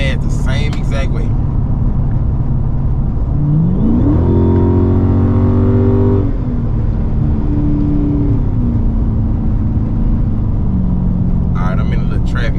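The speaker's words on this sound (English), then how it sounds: "I'm gonna hit the gas the same exact way." A car accelerates hard under full throttle while a pedal box throttle controller is being tested, the engine note climbing steadily for several seconds, easing off and then holding a lower drone, loud and close throughout, with brief talk at the start and end.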